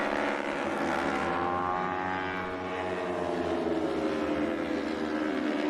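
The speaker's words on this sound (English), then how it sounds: "Great sounds of his Junior Cup bikes" Junior Cup racing motorcycles scream past on a road course at Alabama, a sustained high-revving engine roar with shifting pitch as the bikes sweep by at a distance, steady and loud with no talking.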